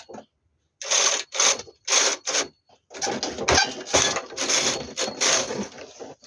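Knitting machine carriage knitting two rows of a lace sweater pattern, sounding as loud mechanical clacking and ratcheting strokes in bursts, with a short pause between passes before a longer continuous run.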